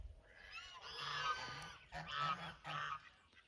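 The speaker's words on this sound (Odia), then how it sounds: "ବତକ ବି ଏଠି ଅଛନ୍ତି" Ducks calling beside a village pond in Odisha, a faint series of honking, nasal calls that come in a few short bouts from some distance.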